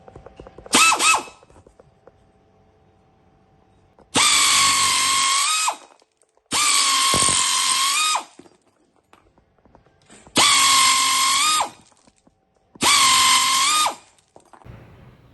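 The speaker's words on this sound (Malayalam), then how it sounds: "ഷീറ്റ് ഈസി ആയിട്ട് കട്ട് ചെയ്യുകയും ചെയ്യാം" Five separate bursts from a pneumatic nibbler cutting sheet metal. The first is brief and the rest last a second or two each, a loud, harsh buzzing chatter with quiet gaps between them.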